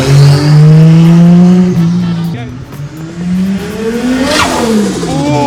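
A turbocharged Holden VL car with a dose pipe revs loudly and close, the engine note climbing and falling with a fluttering rush of blow-off as the throttle drops, and no talk is audible over the engine.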